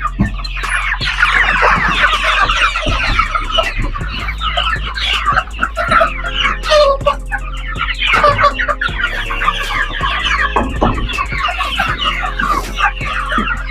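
Hungry chickens on a city chicken farm cluck densely at feeding time, a loud, continuous flock chorus up close with a low steady hum underneath.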